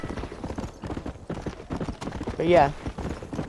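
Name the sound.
Kentucky Saddler horse hooves in the video game Red Dead Redemption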